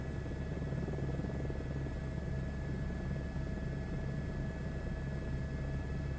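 A helicopter in Microsoft Flight Simulator 2024 gives a steady, droning rotor and turbine hum with constant whining tones, even in level and unbroken throughout, with no talking.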